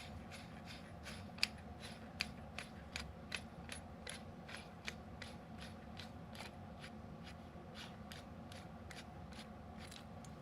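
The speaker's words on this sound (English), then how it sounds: "what you would do is unscrew this bottom part" Metal threads of a Sunwayfoto TA-75LC 75mm half ball bowl adapter turn as the bottom part is unscrewed, giving a steady run of faint, close ticking clicks over a low background hum.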